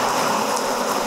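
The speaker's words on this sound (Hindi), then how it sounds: "बहुत तेज बारिश" Heavy rain pouring down, a dense, loud, continuous hiss of drops close by with no pauses and no voices.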